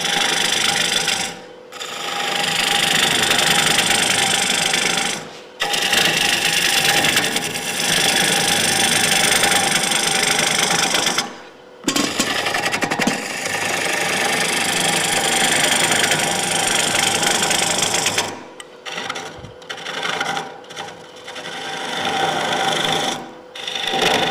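A wood lathe rough-turning a live edge bowl: a loud continuous rasping, scraping cut of the gouge against spinning wood, broken by a few brief pauses as the tool is lifted away.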